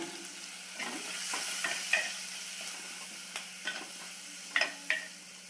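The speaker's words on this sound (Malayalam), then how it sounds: "ഇനി ഇതിലേക്ക് കാൽ ടീസ്പൂൺ മഞ്ഞൾപ്പൊടി ചേർത്ത് തക്കാളി ഒന്ന് ഉടഞ്ഞു വരുന്നത് വരെ ഇളക്കി കൊടുക്കാം" Tomatoes with turmeric are stirred in a frying pan for a drumstick leaf curry. A spoon scrapes in irregular strokes over a steady, close sizzle, with a few sharper clinks against the pan.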